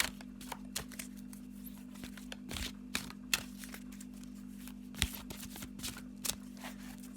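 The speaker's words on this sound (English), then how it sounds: "let me just have a little shuffle of the Oracle, the Halloween Oracle" Halloween Oracle cards shuffled by hand at close range, a quiet run of quick riffling flicks and papery slaps in an irregular rhythm over a steady low hum, with no talking.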